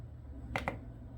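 Two quick clicks of keys pressed on an electronic load's front-panel keypad while entering a current value, close but faint over a low steady hum.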